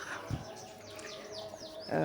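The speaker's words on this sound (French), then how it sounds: "On a les bruits, effectivement, très agréables des petits oiseaux" Small birds chirp and tweet in a garden at a palace water castle in Yogyakarta, a series of quick, faint high calls over a quiet background.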